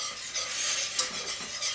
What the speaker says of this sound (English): take your 4 tablespoons or 4½ tablespoons or whatever I said it was of flour and mix that into your butter